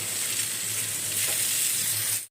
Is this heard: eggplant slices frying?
yes